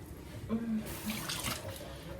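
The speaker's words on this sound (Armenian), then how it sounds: "մի հատ եմ ձեռքս թրջում, որ կարողանամ հեշտ աշխատել" Hands are wetted under a running kitchen tap while preparing dough, a brief quiet splash and trickle of water lasting about two seconds.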